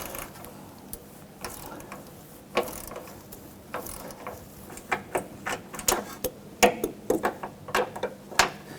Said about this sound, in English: I'm going to switch back over to my 3/8 ratchet.